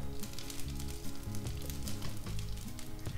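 Cumin seeds, bay leaves and whole spices crackling and sizzling in hot oil at close range, a steady, busy frying hiss with small pops, no voices.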